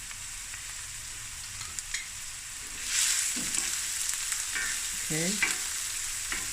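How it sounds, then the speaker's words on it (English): Polony sausage fries in a pan over medium heat, a constant close sizzle broken by spoon stirring scrapes and clinks, with a brief spoken word near the start. "Now I'm going to let this fry on a medium heat"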